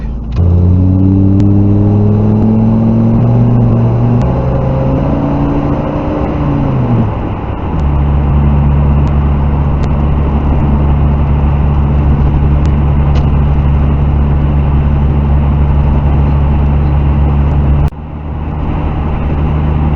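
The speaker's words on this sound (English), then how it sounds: "I'll throttle it under the freeway. My van's V10." A van's V10 engine revs up as it drives under a freeway, a loud, close, deep drone that climbs in pitch and settles into a steady roar, briefly dipping near the end.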